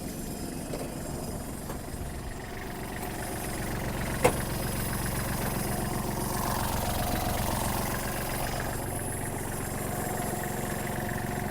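Warmed-up Kubota GL-260 mini tractor with a 1.5-litre D1503 diesel engine idling, a steady close mechanical rumble with no talk.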